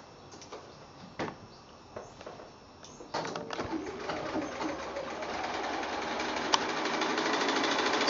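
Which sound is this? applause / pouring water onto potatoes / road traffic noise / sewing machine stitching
sewing machine stitching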